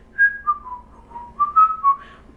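A human voice imitates an eerie whistle heard in a dark tunnel, producing a few wavering, sliding whistled tones in short phrases, fairly loud and close, with no speech.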